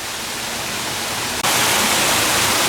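A big waterfall in an animal enclosure at ZooTampa at Lowry Park, a loud, continuous broadband roar that grows louder partway through.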